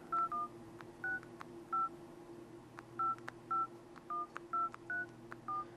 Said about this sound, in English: If I pull up the dialer application here, you can see that I can dial a number.